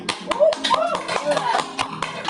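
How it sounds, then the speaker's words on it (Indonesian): A handful of sharp hand claps, spaced irregularly, sound beneath a presenter's voice that carries on over them during a talk segment. "Tepuk tangan lagi dong."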